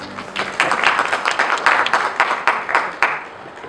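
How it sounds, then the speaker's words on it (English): A round of applause from an audience welcoming a speaker to a talk on landscape architecture, a short burst of clapping that swells and then fades within a few seconds. "Can we please give a round of applause for Ms. Kuzama?"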